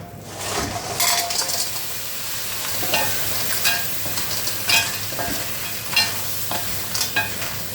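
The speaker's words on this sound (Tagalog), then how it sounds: "nagisa na tayo ng sibuyas sibuyas, bawang, luya" Onion, garlic and ginger sautéing in a pan, a steady close sizzle broken by repeated scraping stirs and light metallic clinks of the utensil against the pan, with no talk.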